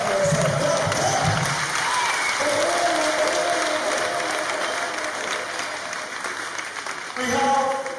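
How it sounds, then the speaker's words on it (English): A conference audience in Ghana bursts into steady, sustained applause, many hands clapping together for several seconds, with a few voices and a brief shout near the end. "Clap for yourself."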